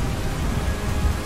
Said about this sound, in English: Heavy patters.